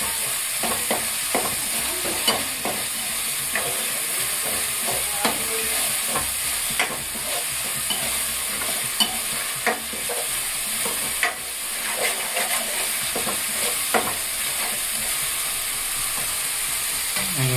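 Tempering for a roasted brinjal curry sizzles steadily in a pan, with a constant frying hiss and frequent scraping and stirring clicks throughout. No voices are heard.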